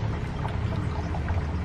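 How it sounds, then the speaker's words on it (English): Water pours steadily into a ceramic bowl for a plant in a greenhouse, a soft continuous splashing trickle close by with no talking. "So I'm gonna put some water in for her"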